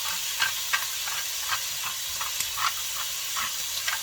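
Food stir-fried in a pan after a generous dose of pepper, a steady hiss of sizzling with repeated light scrapes and taps of the utensil in an uneven rhythm.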